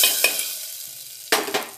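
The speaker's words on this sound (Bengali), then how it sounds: "এই যে ফোড়নটা ডালের মধ্যে দিয়ে দিচ্ছি" Hot tempering of white cumin seeds in oil sizzles as it is poured into dal, with a loud hiss at the start and a second sharp sizzling burst near the end, close and without talk.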